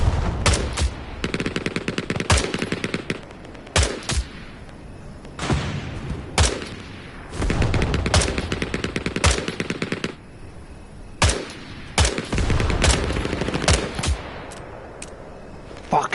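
Machine-gun fire in the game Hell Let Loose, played on PS5: long rapid automatic bursts broken by short pauses and a few sharp single shots, loud and close, with occasional talk over it.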